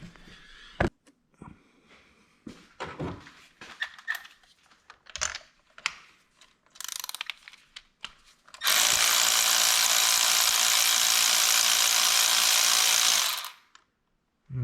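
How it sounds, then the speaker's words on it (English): A ratchet works spark plugs out of a Chevy Cruze 1.4L engine: scattered clicks and taps of tool handling, then a loud, sustained whirring burst of a few seconds that stops abruptly, with no talking. "Let's pull these plugs out."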